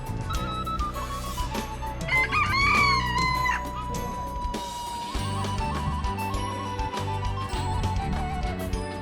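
Chickens cluck while a rooster gives one loud crow over steady farmyard noise at a small zoo in a park near Vinča, outside Belgrade.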